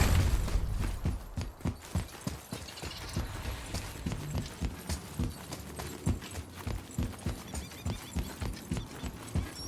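Steady, rhythmic clip-clop of horse hooves on a hard surface in the video game God of War (2018), loud and close, with mechanical clatter beneath and no talking.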